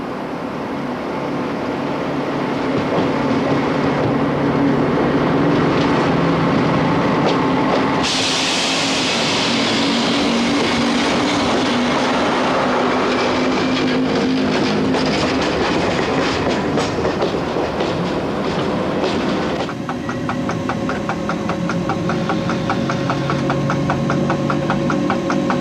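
SNCF CC 6524 electric locomotive hauling 552 tonnes out of Paris Austerlitz, heard from the cab: loud steady traction roar and hum with rhythmic clickety-clack of wheels over rail joints, continuous and close, with no talk.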